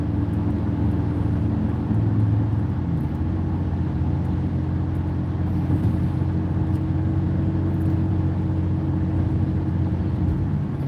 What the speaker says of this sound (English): You can hear the motor. Some motors are quiet. This motor's a little bit noisy.